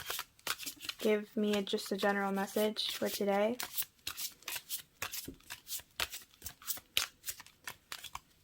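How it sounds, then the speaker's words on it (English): A tarot card deck is shuffled close up in quick bursts of papery riffling and flicking, while someone talks softly over part of it. "After I'm done shuffling, I like pulling cards from the top."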